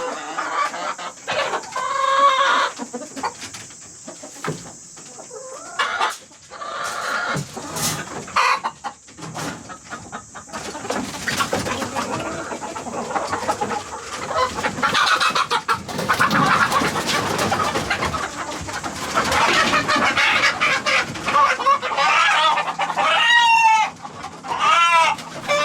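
A flock of chickens and roosters clucks and calls continuously nearby, with busy overlapping squawks and occasional crowing across the whole stretch.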